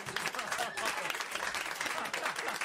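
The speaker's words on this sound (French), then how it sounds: "On l'applaudit" Studio audience applauding on a French radio comedy broadcast, a dense, steady wash of clapping sustained at close range throughout, with voices faintly mixed in.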